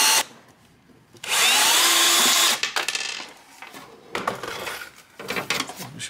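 A power drill drives screws to fit a VESA mounting bracket onto a Samsung screen, with one loud sustained whir followed by shorter bursts of drilling and clattering handling noise.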